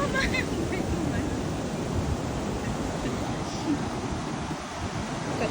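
Ocean surf breaks on a beach in a broad, continuous rush of water with gusts of wind buffeting the microphone, while voices murmur faintly beneath it.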